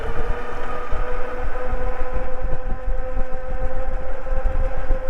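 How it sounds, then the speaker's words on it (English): Wallke H9 dual-motor all-wheel-drive full-suspension e-bike at top speed on throttle only, a steady loud rush of wind and road noise with a faint motor whine underneath, continuous and unbroken. "flip it around and test out the top speed throttle only"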